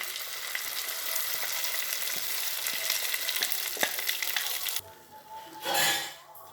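Ground rice batter for spicy kozhukattai, tempered with curry leaves, is stirred in a hot pan until it thickens. A dense, continuous scraping sizzle runs close up, then drops to a quieter hiss, followed by a brief rushing burst near the end, with no talking.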